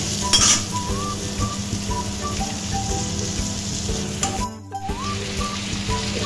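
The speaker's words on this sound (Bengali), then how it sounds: "আলুটা ভাজা হয়ে গেছে, এবার আমি নামিয়ে নেব।" Potatoes sizzle and fry steadily in hot oil, a constant crackling hiss with occasional clinks of a utensil against the pan, close up and without speech.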